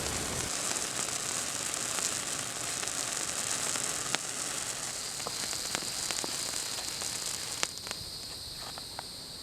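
A silver sparkler burns steadily with a dense, continuous hiss and crackle, scattered sharp pops of dropping sparks standing out near the end, with no talking.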